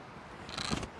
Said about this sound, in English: like a ratchet puller, as you can hear there. It's got a wheel inside